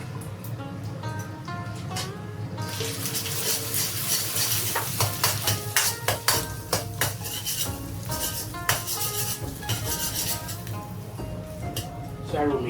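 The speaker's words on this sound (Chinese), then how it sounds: "快速把鸡蛋炒碎， 加入2勺咖喱粉" Scrambled egg stir-fried in a pan with two spoonfuls of curry powder added: steady sizzling under repeated scraping and clanking of a spatula against the pan, with bursts of quick stirring strokes.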